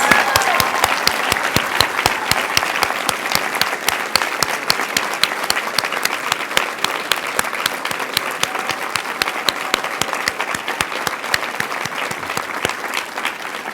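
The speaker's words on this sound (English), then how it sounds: "another round of applause for the nurses who are working tonight caring for our patients and their loved ones" A gala audience gives nurses a round of applause, a dense, steady clapping that lasts throughout without fading much.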